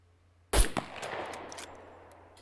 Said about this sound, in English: Seems like a loud 22.